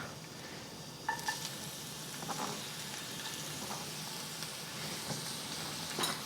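Ginger and green onions frying in two tablespoons of vegetable oil over high heat, a faint steady sizzle with a few light stirring knocks, no speech.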